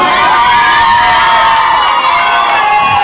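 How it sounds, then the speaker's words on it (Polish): Girls at a party scream together in a loud, sustained, shrill chorus that fills the whole stretch without a break, a dense crowd of high voices. "Dziewczyny piszczą!"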